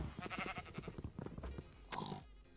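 Sheep bleat amid busy game sounds, a brief wavering call rising near the end after a stretch of clattering, choppy noise.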